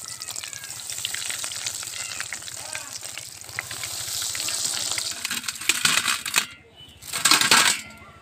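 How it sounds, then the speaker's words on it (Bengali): Vegetable chops deep frying in hot oil, a loud, dense, crackling sizzle that runs continuously, dips briefly, then surges again as pieces are turned, with no talk. "ভেজিটেবিল চপগুলো ভেজে নেব।"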